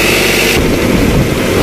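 A tractor-driven straw threshing machine starts up, its engine and machinery churning in a loud, continuous close roar with a steady low rumble and no talking.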